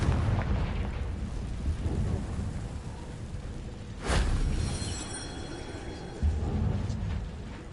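Confringo blasting spell from Hogwarts Legacy going off as a sharp, broadband explosive crack near the middle, then a rumbling tail under a continuous stormy, rain-like wash of game ambience, with a second thump near the end.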